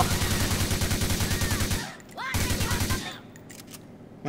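Rapid automatic gunfire in the video game GTA IV, dense bursts of shots in two loud volleys separated by a brief pause, then fading to scattered faint noises.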